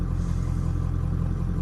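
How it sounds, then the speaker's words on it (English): A Ford Powerstroke truck engine idles steadily with the AC running, a loud continuous low rumble heard from close by without talk. "I turn the truck on, AC going"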